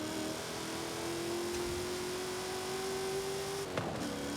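Supercharged Honda S2000 engine holding a steady mid-pitched drone that slowly climbs in pitch for several seconds, then cuts off abruptly near the end, fairly quiet and heard alone without talk.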